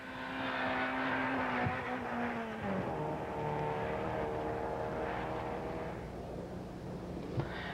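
A Toyota Corolla production-class rally car at the 1991 Baie des Chaleurs rally drives past with a loud, sustained engine note that shifts pitch as it passes and a gear change midway, then fades slightly.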